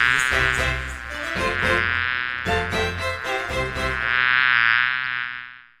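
A bee buzzing sound effect drones loudly and continuously, a rich rasping hum that swells and dips slightly without any pause.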